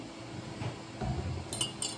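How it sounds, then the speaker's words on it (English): A metal utensil stirs and taps through goat milk yogurt in a container, soft scraping with a few light clinks near the end, quiet and close. "And then I always stir it around a little tiny bit, kind of like chopping"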